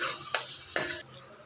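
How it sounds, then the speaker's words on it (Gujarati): A spoon stirs spices in a pot of palak khichdi, giving two sharp scraping strokes against the pot over a faint background sizzle. "ફરી વાર પાછું હલાવી દઈશું."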